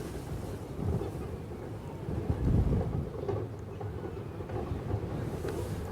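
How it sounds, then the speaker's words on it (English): Gusty coastal wind at St Ives buffets the microphone outdoors, a low rumbling roar that rises and falls in soft surges, with faint distant surf-like wash and no clear speech. "Struggling with that wind."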